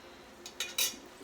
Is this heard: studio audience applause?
no